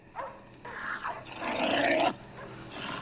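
Dogs in Crocodile Dundee growl and snarl in a few rough bursts, the longest and loudest rumbling through the middle before cutting off, followed by a softer trailing growl.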